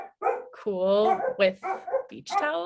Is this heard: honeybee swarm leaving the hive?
no